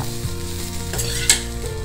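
Chopped beetroot frying in a hot pan and being stirred, a steady sizzle with scraping and clinking of the spoon against the pan, including one sharper knock near the end, with no talking.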